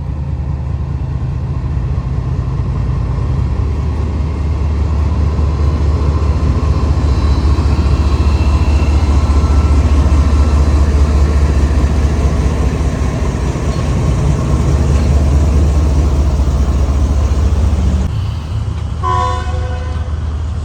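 Shah Hussain Express pulled by locomotive 9043 departs a Pakistani station, a loud, steady rumble of wheels and engine running throughout, joined near the end by a short horn toot.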